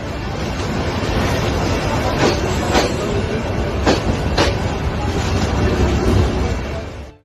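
A train rushes past a roadside fruit vendor's stall set just centimetres from the railroad in Bangladesh, a loud, continuous roar of rolling cars with occasional sharp clacks from the wheels, very close and steady throughout.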